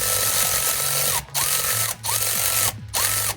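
Rapid mechanical ratcheting as a puller is tightened to pull off the harmonic balancer on a Toyota 2JZ Supra engine, a continuous buzzing clatter broken by three short pauses, close and loud.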